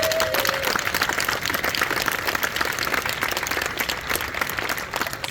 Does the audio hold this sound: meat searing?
no